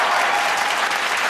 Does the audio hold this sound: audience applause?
yes